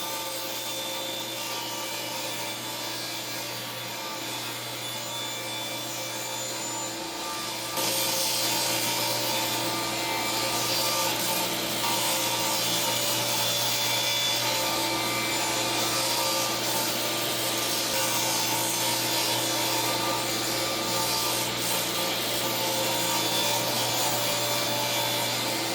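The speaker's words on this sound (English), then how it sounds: "we'll make another cut, and we'll cut a little bit bigger piece right here" Table saw cutting wood on a crosscut sled, a loud, continuous whining roar that grows louder and harsher partway through as the blade bites, sustained for the whole stretch without talk.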